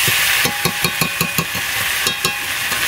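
Desi chicken pieces fry in hot oil with ginger paste, a steady loud sizzle broken by a regular series of sharp scraping stirs from a spatula against the pan.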